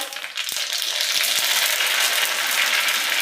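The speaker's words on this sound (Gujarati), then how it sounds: "વઘારમાં 1 ચમચી રાઈ," Mustard seeds sizzling in hot oil for a tempering while making besan rava dhokla, a loud continuous frying hiss with a few soft pops, close and without talk.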